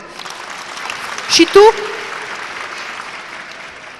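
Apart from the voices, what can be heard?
audience applause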